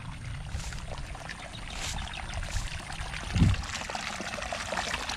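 Irrigation water runs steadily into a dry tomato field, a soft continuous trickle and pour with one brief louder splash partway through, no voices.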